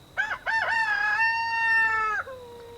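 A rooster crows loud and close in a high-elevation garden, one full drawn-out cock-a-doodle-doo with a sharp broken start and a long sustained tone that drops off at the end.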